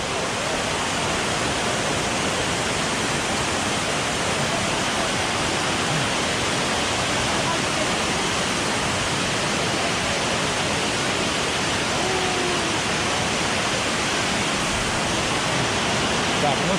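A waterfall in Jamaica, heard up close as a loud, steady, unbroken roar of falling water that fills the whole stretch without pause.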